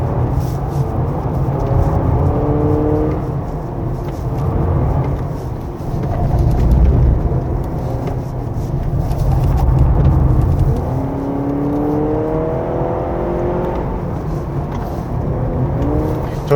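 A 2025 Honda CR-V Hybrid 4WD pulls up a winding mountain road under hard throttle, a steady loud cabin drone of engine and road noise with engine tones swelling and easing, no talking.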